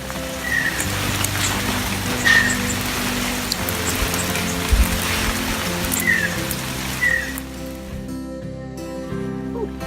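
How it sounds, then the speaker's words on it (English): Steady rain falling, a broad even hiss with occasional drips and patters, continuing throughout at moderate level before thinning toward the end. "Okay, it's still raining."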